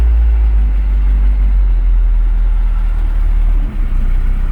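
A foreign car's engine runs under light throttle after carb cleaning, a loud, steady low rumble held close and continuous with only a brief dip near the end.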